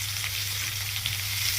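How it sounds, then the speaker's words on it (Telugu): Finely chopped onions with curry leaves fry in a hot pan for a prawn dish, giving a steady, close, bright sizzle that holds evenly throughout, with no voices. "ఇప్పుడు నాజుగ్గా తరిగినటువంటి ఉల్లిపాయ వేసుకోవాలన్నమాట."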